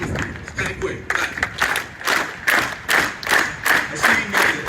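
A crowd of students claps along in a steady, quick rhythm, sharp hand claps repeating evenly over a few seconds, with voices and chanting mixed in beneath the beat.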